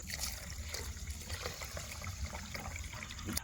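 Basmati rice being rinsed and swirled by hand in water while preparing Arabian chicken kabsa, a soft continuous trickling and sloshing at close range with no talking.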